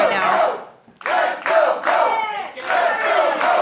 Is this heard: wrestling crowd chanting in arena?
yes